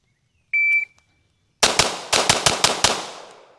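Seven rapid pistol shots ring out in quick succession from a Staccato XC, sharp and loud, following a brief electronic beep from a shot timer.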